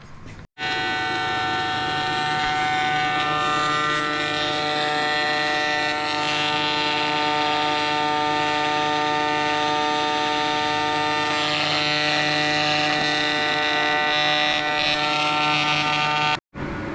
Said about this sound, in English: So what Dad's using here is called a TIG welder